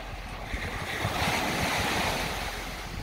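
Wind buffets the microphone over steady surf breaking beside the sea at night during a surfcasting outing, a broad continuous rush with low rumbling gusts and no voices.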